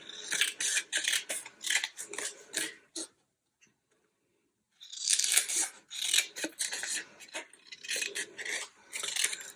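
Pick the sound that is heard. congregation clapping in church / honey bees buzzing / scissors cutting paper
scissors cutting paper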